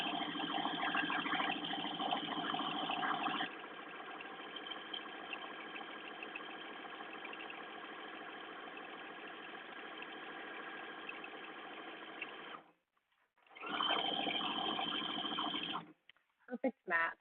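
A sewing machine runs a straight stitch at a slightly longer stitch length, a steady mechanical whirring hum that goes on for long runs, stops briefly, then resumes before ending in a few short bursts.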